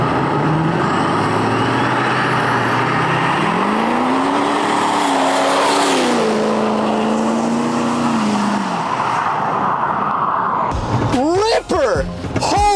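An unreliable diesel vehicle accelerates hard with wheel hop, its loud engine note climbing and dipping with tire noise, then it cuts to chattering clatter and excited voices at the end.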